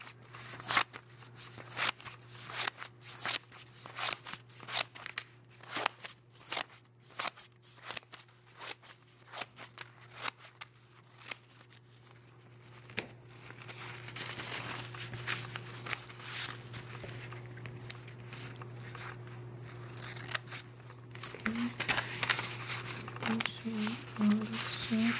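Scissors cutting long single-layer paper for an origami flower: a run of crisp, rhythmic snips up close, followed by paper rustling and crinkling, with a person talking quietly at times.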